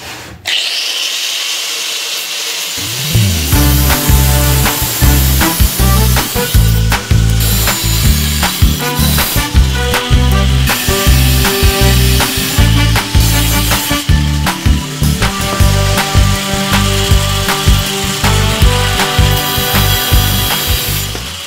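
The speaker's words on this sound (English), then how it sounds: "we're using my favorite tool, the angle grinder" Angle grinder cutting plate steel for an e-bike's steering fork triple trees, a loud continuous whine that starts after a short quiet moment and runs on with rhythmic shifts in pitch and load, close up with no talking.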